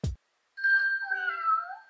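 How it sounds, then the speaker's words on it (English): A short thump, then a synthesized cat meow timer chime from a Google Nest smart speaker, a single drawn-out electronic meow, clear and close. "Hey Google, set a 3-second meow timer."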